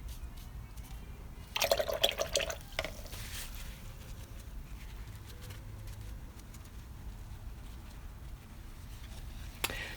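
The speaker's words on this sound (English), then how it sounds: "adding a little splatter, especially when the paint is wet." Watercolor paint flicked with water onto a wet painted surface, giving a brief cluster of soft wet spatter taps near the start, then quiet dripping and faint handling sounds.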